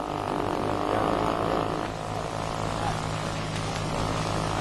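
A radio-controlled model airplane flies overhead, its propeller engine droning loudly and steadily throughout without any clear landing sound.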